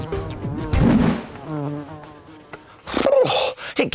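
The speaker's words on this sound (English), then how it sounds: "It's a bee!" A bee buzzes loudly and close in a children's art show, its wavering drone rising and falling in pitch in uneven bursts.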